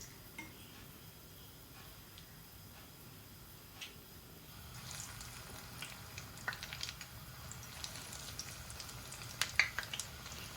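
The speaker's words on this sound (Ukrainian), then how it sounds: "Викладаю рибку і буду смажити до золотавого рум'яного кольору з двох боків." Quiet, steady sizzling of fish frying in hot oil, with occasional small pops and crackles growing a bit busier toward the end.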